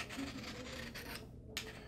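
Knife blade being sharpened on a stone to set a bevel: short, raspy scraping strokes of steel across the stone, close and fairly quiet, in a quick back-and-forth rhythm with a brief pause near the end.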